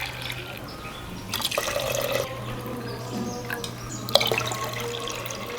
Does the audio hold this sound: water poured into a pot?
yes